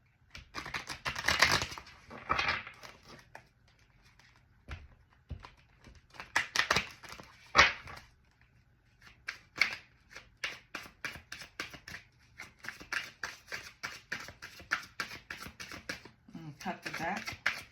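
Tarot cards are shuffled in repeated quick riffles and taps, with pauses between bursts and soft talk now and then over them.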